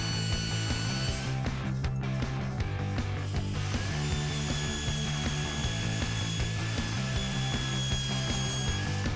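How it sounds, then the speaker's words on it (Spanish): Handheld wood router cutting out openings in a wooden board clamped to a template, a steady loud mechanical whine with a rattling, ratchet-like texture running continuously without speech. "Se afirma la madera y el molde y se trabaja con la fresadora."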